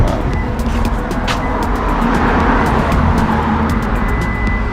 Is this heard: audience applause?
no